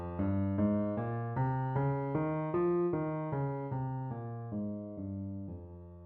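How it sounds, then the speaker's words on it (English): A slow F natural minor scale played note by note on a sustained keyboard-like instrument, rising and then falling back down, clear and alone. "This means we are using the natural minor version of the scale, which sounds like this."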